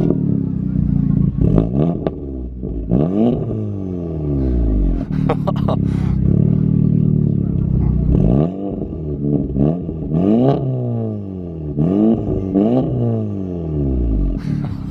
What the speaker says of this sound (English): Can you give it a little rev?